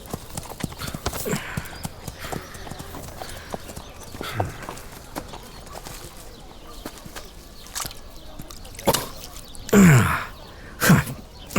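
Horse hooves clip-clop in an irregular, fairly close series of knocks, with a snort or whinny-like sound and short louder bursts near the end.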